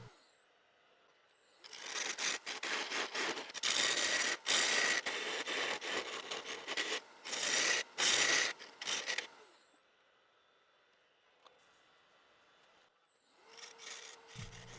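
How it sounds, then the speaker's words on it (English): A lathe turns an epoxy and root burl bowl while heavy cuts tear at the spinning piece in loud, harsh bursts with short gaps, over a quiet motor hum. "The initial cuts were heavy to quickly remove bulk material."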